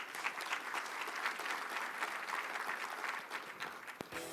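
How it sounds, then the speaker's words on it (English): Sustained crowd applause for the police force at a Rock Island state of the city address, a thick continuous patter of many hands that stays steady and moderately distant, closing with a few brief thumps near the end. "Give the police force a round of applause,"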